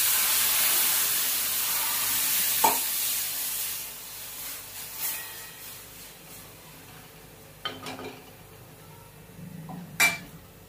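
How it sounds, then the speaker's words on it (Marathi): Water poured into a pan of vegetables frying over low gas gives a soft, fading hiss of sizzling steam, broken by a few faint clinks of a utensil against the pan in a quiet kitchen. "आता त्यामध्ये थोडं पाणी टाकूया."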